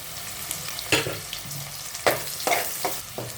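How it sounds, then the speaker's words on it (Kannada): Onions sizzling in hot oil in a pan while a pilaf with fresh field beans is cooked, a steady close crackle broken by several sharp stirring hits, with no talk. "ಈರುಳ್ಳಿ ಸ್ವಲ್ಪ ಚೆನ್ನಾಗಿ ಫ್ರೈ ಆಗಲಿ"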